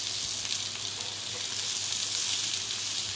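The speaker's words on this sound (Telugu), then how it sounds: "మీడియం ఫ్లేమ్ మీద మంచిగా వేగనివ్వండి." Chicken shami kababs fry in ghee in a pan over a medium flame, giving a steady, close, even sizzle that runs unbroken throughout with no talking.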